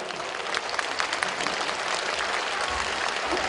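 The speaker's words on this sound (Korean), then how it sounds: "큰 박수 부탁드립니다." Sustained applause fills a Korean ceremony hall at a Gyeongsangbuk-do Disabled Persons' Day commemorative event, steady dense clapping from a large audience for the full stretch with no voices over it.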